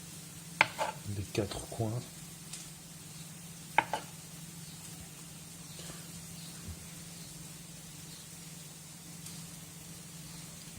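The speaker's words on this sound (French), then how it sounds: "Donc nous allons maintenant couper le chèvre en dés assez fins." A knife cuts soft, very mushy goat cheese into small, fine dice, giving a few close, soft taps and scrapes early on, then mostly quiet with a low steady hum and a brief spoken phrase.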